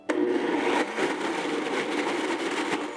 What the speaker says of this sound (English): just blend up the peanuts a little bit more